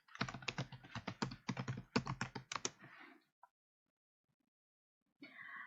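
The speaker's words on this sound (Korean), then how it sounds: "스페이스바 2번을 눌러서 글자 한 칸 정도의 간격을 띄우고요" Rapid clicks of a computer keyboard during document typing practice, a quick burst of keystrokes including spacebar presses, then silence before a few more clicks at the end.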